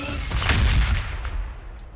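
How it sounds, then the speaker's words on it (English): A freight cannon fires in Warhammer 40,000: Battlesector, producing a loud, heavy boom with a rumbling low-end tail that decays over about two seconds, with no talking. "Freight cannons seem nice for that."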